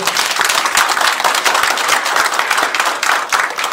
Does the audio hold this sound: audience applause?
yes